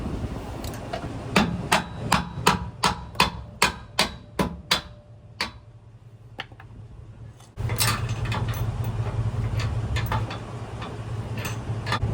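Sharp hammer blows strike a Carolina Skiff 16 boat hull to knock a hole through after the drill died, about ten loud, evenly spaced whacks, then a few scattered taps and a steady background hum.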